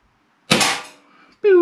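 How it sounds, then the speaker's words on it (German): A single sharp, muffled pop from an Umarex Perfecta S3 4.5 mm (.177) air pistol fired through a silencer, followed by a short decaying tail and then a brief ringing strike. "Probieren wir noch ein bisschen einhändig zu schießen auf das rechte Wildschwein."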